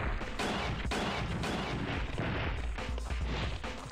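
Rapid, loud gunfire in Dino Crisis 2, a dense volley of overlapping shots and booms that continues without pause for several seconds.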